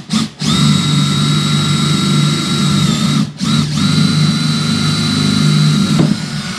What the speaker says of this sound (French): Alors je vais essayer maintenant avec la mèche à bois